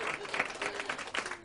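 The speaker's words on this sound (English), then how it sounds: "Please, a round of applause for Diana's..." Faint, brief audience clapping after a magic trick, a sparse patter of hands with uneven bursts over about a second and a half.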